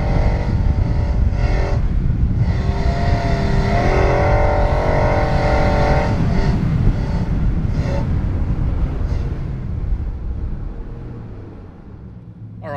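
A Nissan Y62 Patrol running tyres at 15 PSI labours up a soft sand beach exit in the heat, its engine revving hard and loud before easing and fading toward the end.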